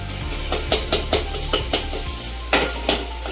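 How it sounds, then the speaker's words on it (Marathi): Ginger-garlic paste goes into chicken in a hot pan: a steady sizzle with repeated sharp scraping and clinking of a spoon against the metal pot, several distinct stirring strokes, fairly close, with no talking. "आता आपण ही अद्रक लसूणची पेस्ट घालून घेऊया"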